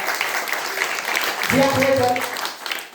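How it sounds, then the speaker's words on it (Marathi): A school gathering applauds, a crowd clapping in a broad patter while a voice speaks loudly over it midway through. "टाळा वाजला"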